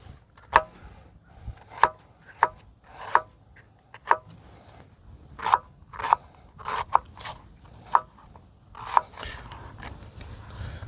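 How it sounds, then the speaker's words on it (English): Potatoes and a large onion are chopped on a board at a truck campsite: crisp knife strikes come in an irregular run of about a dozen thuds, close and clear, with light talking in between. "we got some potatoes and an onion here that we are going to cut up"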